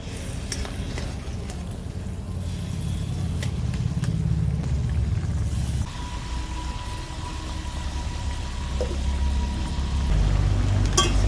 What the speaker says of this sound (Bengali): ডিমটার সঙ্গে আমি গ্রেভিটাকে ভালো করে ফুটিয়ে নেব